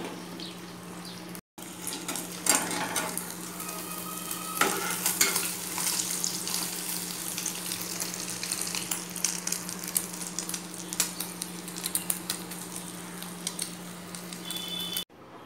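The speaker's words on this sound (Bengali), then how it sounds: "তাই ডিমের অমলেটটা করে নেই।" Egg omelette frying in a hot pan, a continuous, close crackling sizzle with light bubbling that holds steady apart from one brief dropout near the start.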